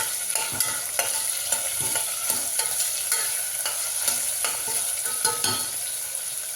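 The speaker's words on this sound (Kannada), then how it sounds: "ಹಾಗೆ ಗೋಡಂಬಿ ಕೂಡ ಸೇರಿಸ್ಕೊತಾ ಇದ್ದೀನಿ ಇಷ್ಟೊಂದು ಫ್ರೈ ಮಾಡ್ತಾ ಇದ್ದೀನಿ" Cashews frying in oil in a pan with chopped onion, a steady bright sizzle throughout with repeated scraping and stirring clinks from a spatula, close and alone with no talk.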